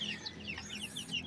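A Brahma hen clucks in a run of short, repeated calls in a chicken breeding pen, fairly faint and close, with no talking.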